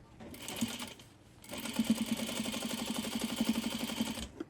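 A sewing machine hems a pair of jeans, its needle running in a fast, even mechanical chatter after a brief start and pause, close and moderately loud with no speech.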